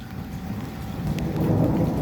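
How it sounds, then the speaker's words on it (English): Rain falls steadily during a lightning storm in Charters Towers, a continuous hiss that swells louder toward the end, with a low thundery rumble beneath. "There it is, a bit of rain."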